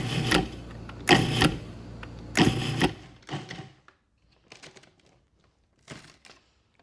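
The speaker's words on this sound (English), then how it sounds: "whir that up in a food processor, just pulsing it until it's like a fine crumb" A food processor pulses graham crackers into fine crumbs in short bursts, a few sharp near whirs followed by fainter, briefer pulses and quiet gaps.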